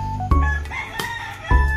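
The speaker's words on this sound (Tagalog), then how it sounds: "Manok" A rooster crows loud and close, a single drawn-out cock-a-doodle-doo rising and falling over nearby clucking, with another short crow starting at the end.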